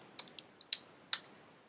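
About five sharp, separate clicks come from keys on a hybrid computer keyboard, spaced unevenly over a quiet room during a Haskell coding session, with the last strokes the loudest and no one talking.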